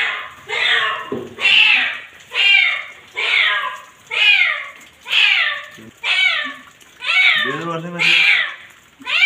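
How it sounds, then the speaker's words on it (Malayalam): A cat rescued from a well meows repeatedly and loudly, roughly nine drawn-out calls in a steady rhythm, close to the listener with no other sound. "ഇവർ സ്ഥലത്തെത്തി പൂച്ചയെ കിണറിൽ നിന്നും രക്ഷിച്ചു."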